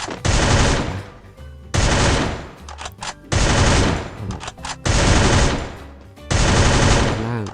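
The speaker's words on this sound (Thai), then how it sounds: "เดี๋ยวผมยิงให้ดูแดงเลยรอบนี้" Automatic gunfire in the shooting game Free Fire, loud and close, coming in about five sustained rapid bursts separated by short pauses.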